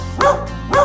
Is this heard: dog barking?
yes